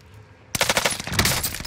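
A submachine gun in a video game opens up after a brief quiet moment, firing a loud, rapid burst of closely spaced shots that continues to the end.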